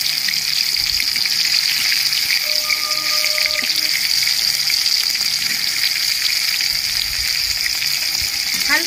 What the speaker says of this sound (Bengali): হালকা লাল করে ভেজে নেব।